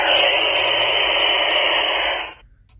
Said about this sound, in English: I'll show you how to adjust the squelch level so you don't have to hear that all the time.